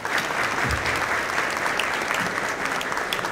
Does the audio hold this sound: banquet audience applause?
yes